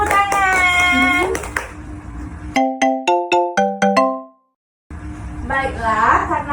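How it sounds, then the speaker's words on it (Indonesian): An electronic school bell chimes a short descending melody of about eight tones to mark break time in an Indonesian classroom, briefly cutting through the chatter of children and a teacher, which resumes after a moment of silence. "sudah bunyi lonceng untuk istirahat"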